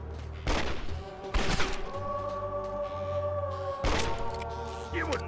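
Gunfire in the video game Red Dead Revolver: several sharp bursts of shots, each a quick cluster of loud cracks, separated by pauses over a steady musical background.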